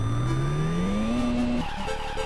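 A synthesized tyre squeal from the Tandy PC version of the OutRun racing game rises in pitch and then cuts off into short chirps, loud and alone.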